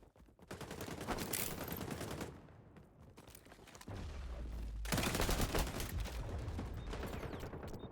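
Bursts of rapid gunfire in the game XDefiant, sustained automatic volleys with a short lull in the middle, loud and close.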